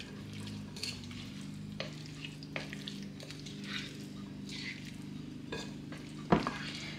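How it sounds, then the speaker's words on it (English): A spoon stirs a Texas caviar salad in a bowl, soft scraping and wet shuffling strokes with a few light clinks and one sharper knock near the end, over a low steady hum, no talk. "we're going to stir this"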